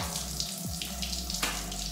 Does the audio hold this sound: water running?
yes